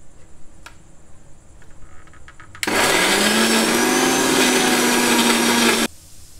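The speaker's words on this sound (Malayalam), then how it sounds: "ഇനി നമുക്കിത് മിക്സിയിൽ വെച്ചിട്ട് ഒന്ന് വെള്ളം ചേർക്കാണ്ട് അരച്ചെടുക്കാം." A small mixer grinder jar whirs loudly for about three seconds, grinding marinade ingredients for alfaham chicken without water, its pitch rising slightly as it spins up before cutting off abruptly into a quiet kitchen.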